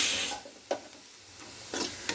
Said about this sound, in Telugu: ఇప్పుడు కాకరకాయ మొత్తం ఫ్రై అయింది కొబ్బరి పొడి వేసి ఫ్రై చేద్దాం